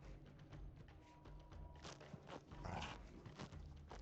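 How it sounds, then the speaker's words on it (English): A dog sounds in The Legend of Khiimori game amid soft thuds and footsteps, quiet and intermittent with brief bursts. "I don't know why there's a dog sound."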